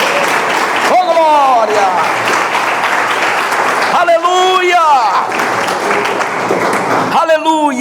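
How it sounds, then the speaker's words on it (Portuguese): Church congregation applauding loudly and steadily through a Portuguese-language worship service, while a preacher keeps calling out praise over the clapping. "Aplauda o Senhor."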